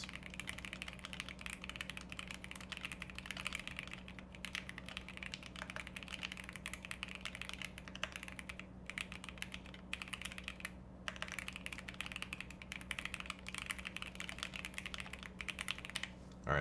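Steady rapid typing on a computer keyboard, fast continuous key clicks with a few brief pauses, close up over a constant low electrical hum.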